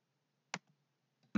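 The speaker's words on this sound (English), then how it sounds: "So I'm just going to click to log in." A single crisp computer mouse click to log in sounds in near silence, with another faint tap and a brief sound cut off at the very end.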